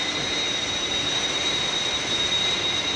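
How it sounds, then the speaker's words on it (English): The Fire Flash aircraft drones in flight with a steady, unbroken engine roar and a thin high whine over it, constant in level with no voices. "See, look, there's another aircraft dead ahead of us."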